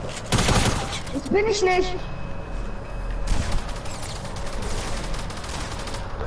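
Bursts of automatic gunfire in a squad-based shooter video game, loud and dense in the opening seconds and continuing intermittently, with people talking over it.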